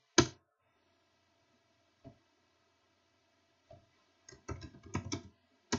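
Fingers type on a computer keyboard in short, sparse bursts of close clicking, with a single tap, pauses of silence, then a quicker flurry of keystrokes toward the end.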